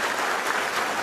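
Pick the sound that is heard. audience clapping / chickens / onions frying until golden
audience clapping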